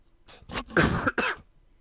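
A few close, harsh coughs mixed with throat clearing, in a short burst, then quiet.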